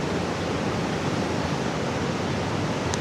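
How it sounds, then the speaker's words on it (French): A canyon waterfall roars steadily and close, a dense broadband rush of falling water with no breaks and no voices. "là il y a une autre cascade."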